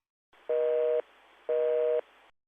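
An outgoing call tone in Microsoft Teams connected to a Yeastar P-Series PBX: two steady half-second beeps about a second apart over a faint line hiss, clean and fairly quiet.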